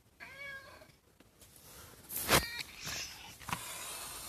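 A cat meows several times up close, a series of short, rising mews spread over a few seconds, with faint rustling and handling noises between them.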